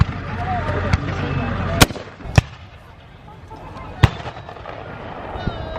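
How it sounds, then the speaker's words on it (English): Several loud, sharp explosive blasts burst out at irregular intervals over a constant rumbling background at a 19th-century battle reenactment in Florida, with voices murmuring under the din. "There's some massive explosions going off."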